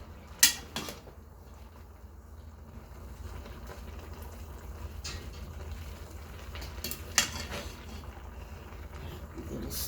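Metal spoon scraping and clanking inside a hot pot of collard greens cooked with kale and smoked turkey, two sharp clinks over a steady low kitchen hum and soft stirring scrapes.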